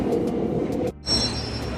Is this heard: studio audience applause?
no